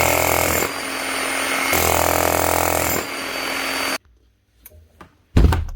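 Bosch hammer drill with a fault in its hammer action running loud and continuous in rattling bursts, briefly easing off, then cutting out; a few knocks and a sharp clatter follow near the end.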